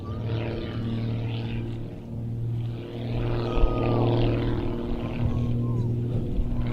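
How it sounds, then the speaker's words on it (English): A modified S2S aerobatic plane runs in and pulls vertical into a climbing rolling tower at an RAF Mildenhall air show, its propeller engine droning steadily at mid distance with a rising note partway through. "really showing us something of the speed of this modified S2S model as Rich runs in and pulls vertical"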